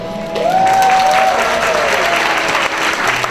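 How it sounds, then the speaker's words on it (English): Audience applause for children from an elementary school performing arts group at a charity fundraiser dinner, a loud, steady burst of clapping from a full room with a brief tonal whistle-like sound near the start. "one more time, a round of applause for the children"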